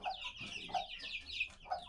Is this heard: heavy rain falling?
no